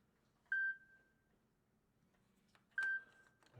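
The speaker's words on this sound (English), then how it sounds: "My phone is beeping. It's calling me." Mobile phone beeping with an incoming call: two short, clear electronic tones about two seconds apart, each with a faint trailing ring, in a quiet room.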